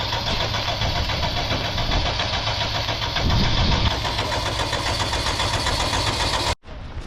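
A modified Honda Civic engine fires up and settles into a steady, loud idle with mid-pitched knocking, a brief swell in the middle and an abrupt cutout near the end, heard close with no talking.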